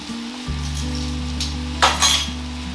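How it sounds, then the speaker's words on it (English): Ground meat mixture with a heaping tablespoon of flour sizzling in a pan for shepherd's pie, a steady close fry with a low hum and a couple of utensil scrapes and clinks from stirring. "kind of move everything around so that it becomes coated with flour"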